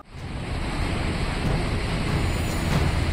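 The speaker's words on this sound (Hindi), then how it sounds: "चेनाब दरिया का पानी काफी तेजी से बढ़ रहा है।" Rushing, rising water of the flooded Chenab river at Ramban, a loud, continuous broadband roar with wind buffeting the microphone, no voices.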